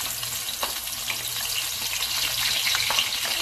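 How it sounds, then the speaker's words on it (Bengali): Blended garlic, ginger and yogurt paste for egg korma frying in hot oil, a loud, dense continuous sizzle up close with occasional crackles and no talking. "এখন এই তেলটা গরম হয়ে আসলে এই তেলের মধ্যে সবগুলো ছেড়ে দিব।"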